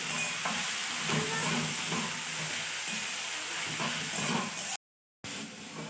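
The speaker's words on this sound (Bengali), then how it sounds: "দিয়ে মোচাটা ভালোভাবে কষে নেব" Steamed banana flower is stir-fried in a pan for chop, a steady close sizzle and hiss with faint stirring scrapes running for several seconds before a brief dropout, no voices.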